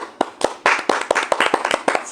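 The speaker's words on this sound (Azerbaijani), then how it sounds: "Halaldırsa bir alqışlayaq." A small group of people clap together in uneven, sharp bursts, hands smacking close by and loud for a couple of seconds.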